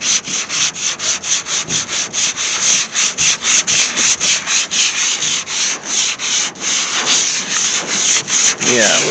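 Repeated hand sanding strokes on the hood brace of a 1968 AMX under restoration, a steady rapid rasping rhythm of roughly three strokes per second, close and loud throughout with no talk.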